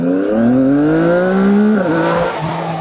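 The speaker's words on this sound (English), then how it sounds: "I just barely touched the throttle right now" A CFMOTO 675NK motorcycle engine revs close and loud, rising in pitch smoothly before dropping abruptly back toward idle, with a continuous mechanical drone beneath.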